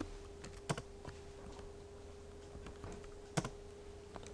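Command typed on a computer keyboard in the Maple maths program, a handful of sparse, quiet key taps with two sharper strikes, over a faint steady hum; no talking.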